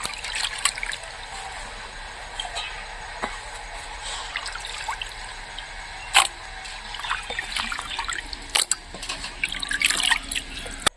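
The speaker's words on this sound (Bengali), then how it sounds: "বন্ধুরা, মাংস ধোয়া হয়ে গেল," Pork meat being washed with water, faint trickling and dripping with scattered splashes and sharp knocks growing busier toward the end, recorded close in an outdoor village setting.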